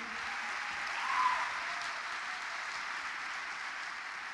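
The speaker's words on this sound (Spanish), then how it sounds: "Si vas a aplaudir y es para Él" A church congregation applauds during a Tuesday worship service sermon, steady dense clapping held at an even level throughout with a slight swell near the start, no voices.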